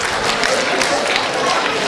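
Audience clapping for students of the Zanon school, a dense steady burst of applause filling the room, close and loud.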